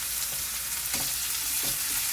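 Meat fried and grilled in a pan, sizzling steadily and close with a bright hiss throughout, a few soft scrapes of stirring on top and no talking.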